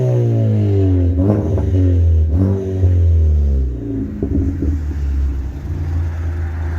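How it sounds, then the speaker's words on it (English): A 2015 Ford Focus ST four-cylinder lets out a deep, throaty exhaust rev close by, the pitch climbing and falling in two quick blips before settling back into a rumbling idle. "take a listen out to the exhaust burbling away. Nice and deep. Let's give it a little rev and see how she sounds"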